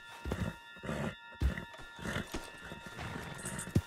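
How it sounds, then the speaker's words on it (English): Horse hooves clip-clop in Red Dead Redemption 2, with a loud whinny rising midway and short footfall bursts around it, close and clear over faint game ambience. "Put Strauss on the back of John's horse and let's get out of here."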